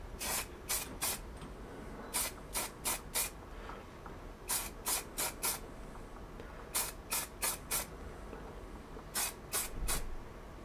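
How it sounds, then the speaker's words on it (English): Weathered black paint is sprayed over a model tanker goods wagon in short, close hissing bursts that come in quick clusters of four or five, with brief pauses between the groups. "it's just a case of adding a spray of the weathered black over the top of the model"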